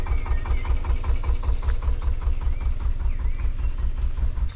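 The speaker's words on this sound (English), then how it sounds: "I've left my engine running because I'm scared of turning it off" A canal narrowboat engine idles steadily nearby, a loud low diesel chugging with an even rhythmic knock throughout, no voices over it.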